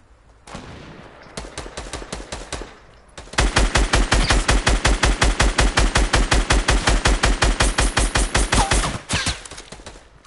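Rapid automatic gunfire rattles in long, loud bursts, with a short burst first, then a sustained stream of evenly spaced shots that cuts off abruptly.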